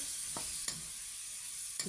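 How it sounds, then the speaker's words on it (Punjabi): A steady low sizzle of potatoes frying in a pan, with a few brief stirring scrapes and clinks, no voices. "3 ਤੋਂ 4 ਮਿੰਟ ਤੱਕ ਆਪਾਂ ਇਸੇ ਤਰ੍ਹਾਂ ਆਲੂਆਂ ਨੂੰ ਭੁੰਨਣਾ ਹੈ"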